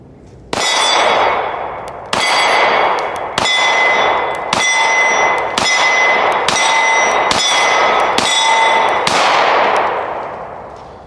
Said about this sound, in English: I'm just going to kind of have fun shooting the steel and give my review.